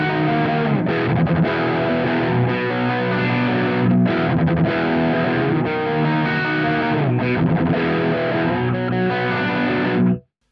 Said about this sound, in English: So it's already adding a bunch of distortion, but not really anything I'd call metal yet.